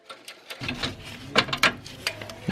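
Ratchet wrench loosening the last bolt on a Honda Civic cooling fan, a series of quick, sharp clicking strokes at an uneven pace, close and fairly quiet.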